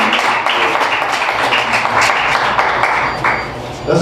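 An audience gives a round of applause, a dense, continuous wash of clapping hands that stays loud and full for several seconds before easing slightly at the end.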